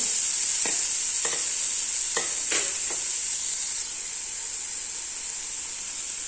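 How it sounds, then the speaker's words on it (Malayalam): Grated carrot and drumstick leaves sauté in ghee with a bright, constant sizzle and hiss, broken by several quick spatula scrapes early on before the frying settles, close up with no talk. "ക്യാരറ്റും മുരിങ്ങയിലയും ചേർത്തൊന്ന് ജസ്റ്റ് ഒന്ന് വഴറ്റി കൊടുക്കാം"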